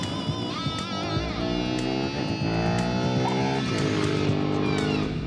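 A KTM 1050 Adventure motorcycle is ridden on a race track, its engine a loud, close, rising and falling whine as it revs through gear changes.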